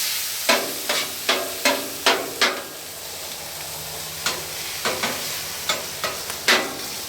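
Sharp sizzling bursts flare every half second or so over a steady hiss, food spattering on a griddle set on a Weber grill, with a pause midway.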